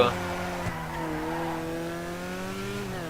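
The Karin Z190 in GTA Online revving hard and accelerating out of a drift, its engine note climbing in steady rising pitch for a few seconds with faint tire noise underneath.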